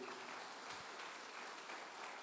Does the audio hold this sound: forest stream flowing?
no